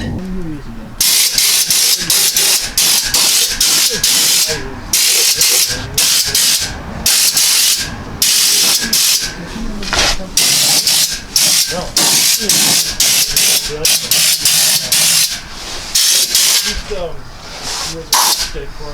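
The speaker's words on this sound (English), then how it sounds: "I've liberally coated everything with the wide angle gun here" Fluid Film rust proofing fired from a wide-angle spray gun under a vehicle, producing loud, close, rapid bursts of hissing spray with brief gaps between pulls of the trigger.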